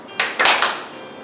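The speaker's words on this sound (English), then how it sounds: "Back with a clap." A couple of soft, quick hand claps during a yoga class stretch, close by, with a brief hollow ring after them and no talking.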